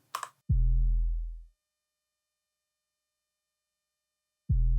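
Two deep, booming 808 bass hits played alone, each opening with a short punch and ringing out before fading, separated by silence.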